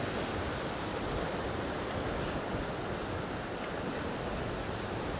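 Ocean waves churn and break over a long rock ledge on the Jurassic Coast at Kimmeridge, a loud, continuous roar of surf with some wind buffeting, and no talking.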